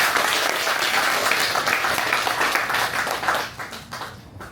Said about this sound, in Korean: 그분들을 위해서 우리 박수 한번 보내주시기 바랍니다